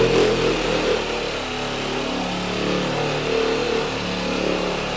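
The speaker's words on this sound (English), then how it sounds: "You may think that this is a car buffer, but in reality it's the best massage tool you'll ever have." A car buffer polisher runs in a workshop, giving a steady, fairly loud motor whir that holds constant throughout with no one speaking.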